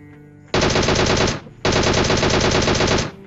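Rapid automatic gunfire in a video game, in two loud, sustained bursts separated by a short pause, the second burst longer than the first.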